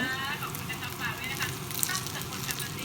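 Pork frying with garlic and pepper, a steady hissing sizzle of hot oil throughout, close and continuous, with someone talking over it.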